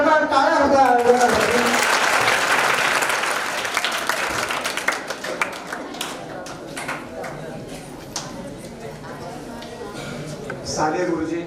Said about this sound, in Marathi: एकदा जोरदार टाळ्या होत्या.